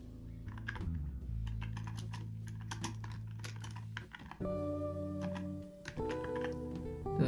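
Rapid clicking keystrokes on a computer keyboard while Bengali text is typed into Illustrator, in uneven bursts with short pauses, heard faintly under background music.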